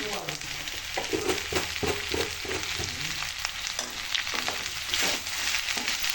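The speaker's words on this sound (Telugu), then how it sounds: "ఇంకా బాగా ఫ్రై అవుతుంది. రెండు మగ్గుతాయి, ఉడుకుతాయి కూడా." Chopped vegetables with salt fry and sizzle steadily in a pan for upma, with irregular stirring scrapes and clicks cutting through the continuous hiss at close range.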